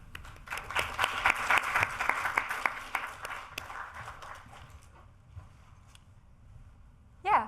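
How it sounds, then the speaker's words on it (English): An audience claps for a few seconds, a scattered burst of applause that gradually thins out and fades to quiet. "So round of applause for her, please."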